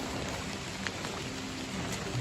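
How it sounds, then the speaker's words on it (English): Steady rain pours down in a dense, even hiss with wind, occasional heavier drops and a low rumble underneath, on a farm in northern Portugal, no voices. "we've had some serious rain and wind, as you can tell"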